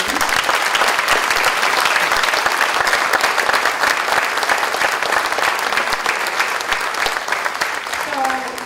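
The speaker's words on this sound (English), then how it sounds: "a round of applause for our amazing veterans." Loud, sustained applause from an audience honoring Vietnam-era veterans at an awards ceremony in Wallingford, Connecticut, steady clapping throughout and fading slightly near the end.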